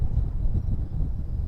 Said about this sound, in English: I'm going to have a lot of wind in this video.